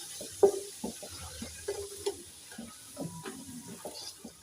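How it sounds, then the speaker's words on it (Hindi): Salt stirred into spices, garlic and ginger frying in a pan, with soft scraping strokes and light ticking of the spoon over a gentle background sizzle, close and fairly quiet. "वन टीस्पून नमक ऐड करेंगे। अच्छी तरह मिक्स करेंगे।"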